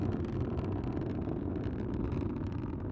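The GOES-O satellite rocket launch, solid motors burning down, sounds like a steady, broad, rumbling roar heard from a distance, unbroken and moderately loud, with no voices over it.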